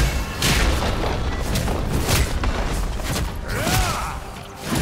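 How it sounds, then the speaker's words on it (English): A League of Legends turret being destroyed gives a deep, rumbling boom that spreads into a broad, sustained crumble of noise, with a brief whooshing sweep near the end. "Blue team's turret has been destroyed."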